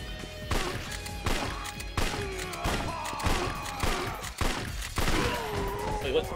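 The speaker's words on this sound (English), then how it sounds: "he's got a shotgun?" A shotgun fires in the video game Yakuza 4, giving a series of sharp booming blasts at roughly regular intervals, loud and punchy over game ambience.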